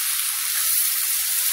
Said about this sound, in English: you can see my beef is frying away.